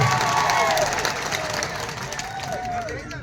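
Audience applause and crowd noise welcoming a speaker named Chaitarbhai Vasava at a political rally in Kawant taluka, broad steady clapping with some cheering, loud and sustained, slowly fading toward the end.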